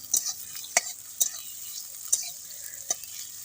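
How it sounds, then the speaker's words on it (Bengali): Chopped tomato and onion stir-fried in a pan: a soft background sizzle with sharp, irregular spatula clicks and scrapes against the pan, close and fairly quiet. "টমেটো কুচিটা দেওয়ার পর ভালো করে নেড়ে চেড়ে কষিয়ে নিতে হবে।"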